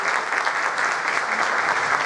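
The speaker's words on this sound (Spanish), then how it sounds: "Quiero un aplauso para todos ustedes" Audience applause at a theatre concert for an official album launch at a cine-theatre, a dense, steady wash of many hands clapping at close range, loud and continuous with no pauses.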